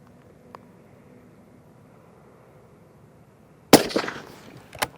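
A single sharp, loud rifle shot from a Browning X-Bolt 2 Nordic on a deer stalk cracks out after quiet outdoor ambience, followed by a brief echoing tail and a second smaller knock.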